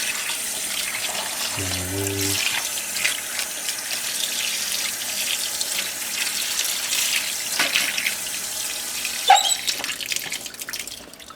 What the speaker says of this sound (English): Wash it off. Just warm water for now.